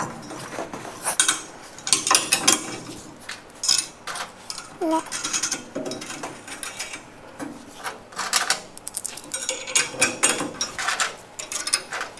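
Metal bolts are grabbed and sorted by hand during a rotisserie build for a Power Wagon cab, giving close, irregular clinking, rattling and jangling in bursts, with occasional faint workshop noise.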